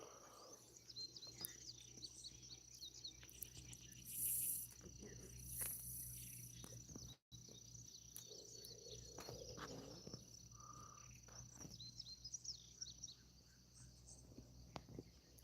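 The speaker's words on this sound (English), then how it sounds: "hear them birds in the background" Constant high insect trilling, like crickets, with faint bird chirps scattered throughout; quiet and distant outdoor ambience.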